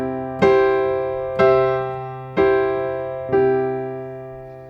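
A piano chord in an inversion, struck four times at an even, unhurried pace, each strike ringing out and slowly decaying, clear and close.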